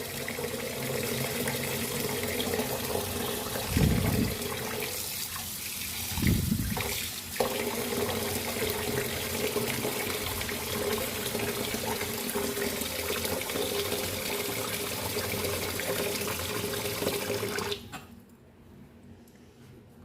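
Rice grains being rinsed in water, with steady running water and a couple of brief splashy swishes partway through, continuous and close, ending abruptly.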